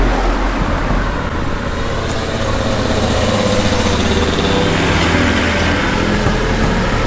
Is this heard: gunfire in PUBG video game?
no